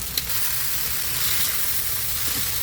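Cherry tomatoes sauté in a hot pan, giving a steady, close sizzling hiss with a brief sharp pop near the start and no voices.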